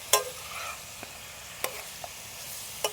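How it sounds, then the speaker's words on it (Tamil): Chicken sizzles in an iron wok over a wood fire for a Kiriraja chilli dry fry, with a steady frying hiss broken by a few sharp scrapes of a stirring spoon, close and clear. "இப்படியே வந்து ஒரு அஞ்சுலேருந்து ஏழு நிமிஷம் நல்லா வதக்கலாம்"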